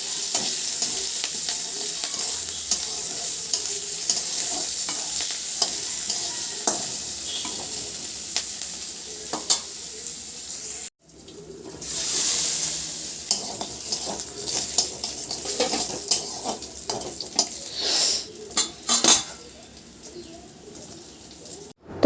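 Green chillies and spices fry in hot oil for a vegetarian potato and pointed gourd curry, giving a steady close sizzle with stirring scrapes, a brief break midway and pigeons cooing faintly in the background.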